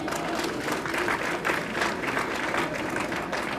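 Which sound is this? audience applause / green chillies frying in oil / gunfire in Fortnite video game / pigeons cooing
audience applause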